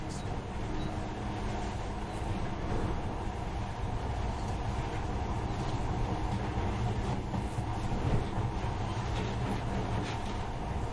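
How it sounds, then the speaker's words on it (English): Monorail train in Metro Last Light Redux rolling along with a continuous low mechanical rumble and hum, steady and fairly loud, with faint rattles and clicks mixed in and no speech. "this monorail seems magic, doesn't it?"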